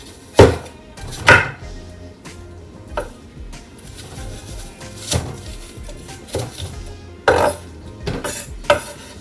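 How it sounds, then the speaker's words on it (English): Knife chopping fruit into smaller pieces on a board before going into a blender, a series of sharp irregular knocks and clatters spaced a second or two apart, close and fairly loud. "we can also use this knife. Just chop that up into smaller pieces, help the blender work a little easier"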